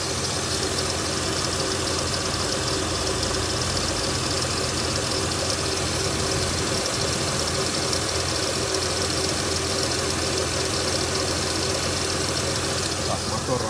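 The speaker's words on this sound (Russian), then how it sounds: "Так, мотор работает отлично." A 2005 Acura MDX engine idles steadily and continuously for the whole stretch, a close, dense mechanical hum and rumble with no breaks or changes in speed.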